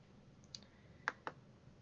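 Two sharp, quiet clicks about a fifth of a second apart, with a faint softer tick just before, like a computer mouse button pressed during a website login, heard alone over low room hiss.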